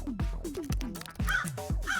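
A crow caws four times in an even rhythm, harsh and fairly close, each call dropping in pitch, with no talk.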